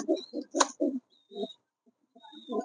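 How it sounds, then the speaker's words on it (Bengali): A pair of sable Giribaz pigeons coo close by in a few soft, throaty bursts with short pauses between them. A sharper bird chirp also cuts in. "একদম সুস্থ সেবল কবুতর সম্পূর্ণ সুস্থ দুটি কবুতরই অনেক সুন্দর"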